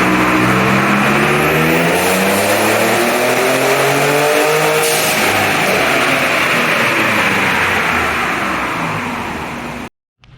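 A 2019 Ford Raptor with newly installed downpipes and turbo adapters fires up for the first time, its engine revving loudly and rising and falling in pitch close by before cutting off abruptly near the end.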